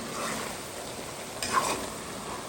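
Boucané, smoked pork with peas, fries in a pan with a steady soft sizzle and a brief stir of a utensil midway, close and fairly quiet.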